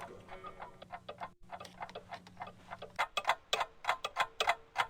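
Crisp overlapping ticks from several authentic Black Forest cuckoo clocks in a Gabriel Knight 2 shop scene, steady and close, briefly dipping then growing louder and sharper toward the end.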